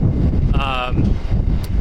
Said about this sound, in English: Now it's windy, so you're probably gonna hear that